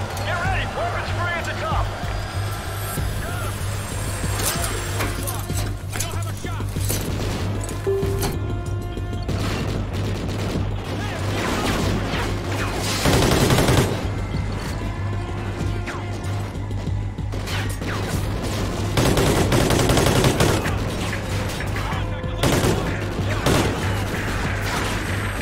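Gunfire crackles through a firefight in the video game Call of Duty: Ghosts, with dense bursts and heavier blasts around the middle and later stretches over a steady droning background.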